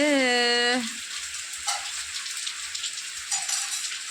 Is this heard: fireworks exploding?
no